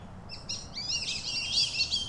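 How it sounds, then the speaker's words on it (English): Black-bellied whistling ducks give a run of high, thin whistled calls, overlapping and fairly close over a low background rumble, with no talking. "You get those black-bellied whistling ducks in the journal?"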